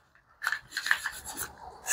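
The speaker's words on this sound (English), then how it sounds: "wipe off the mag well, really dig in here" Cloth rubbing and scrubbing firmly inside the oily magazine well of a Taurus G3C pistol, working over its aggressive grip textures; close, rasping strokes in an uneven run with no talking.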